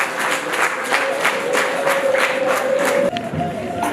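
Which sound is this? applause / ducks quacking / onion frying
applause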